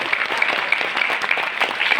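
Sustained audience applause at a Modicare business event, dense and steady clapping throughout with no speech over it.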